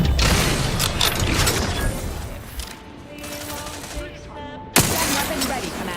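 Gunfire in the video game The Outer Worlds 2, dense bursts of rapid shots crackling for several seconds with a brief lull and tonal game sounds before another sharp loud shot.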